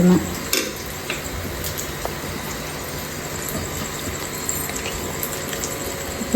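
Chicken pieces fry in hot oil with chillies, a loud, steady sizzle and crackle with sporadic spattering pops running throughout, no voices.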